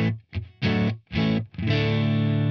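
Heavily overdriven electric guitar through a 12AX7 gain amp model, a few short choppy hits then a long sustained ringing chord, thick and saturated.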